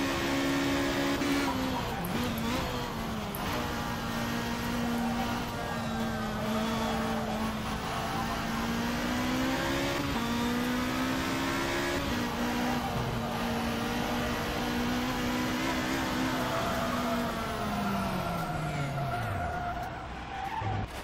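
A Formula 3 race car in the racing sim rFactor, driven on a qualifying-style lap at Las Vizcachas: a loud, continuous high engine note rising and falling through gear changes, with tire squeal and no talk.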